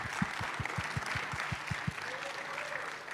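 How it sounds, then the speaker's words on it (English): Audience applause for hackathon winners at a blockchain and AI event, a steady wash of clapping filling the room for about three seconds with low rhythmic thumps underneath. "So another round of applause, please,"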